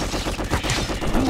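A rapid, dense burst of close, loud gunfire in the video game GRAV, with shots crowding together into a brief clattering rattle.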